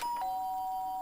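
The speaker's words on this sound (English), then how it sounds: "Ding dong." A two-tone doorbell chime from the video game Danganronpa rings once, a short ding followed by a sustained dong that holds clearly under steady background music with no talking.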